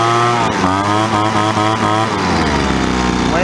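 A Poulan Pro 25cc gas leaf blower engine runs loud and close after a carburetor replacement, revving up quickly with a rising whine then settling, a steady buzzing two-stroke tone without pauses.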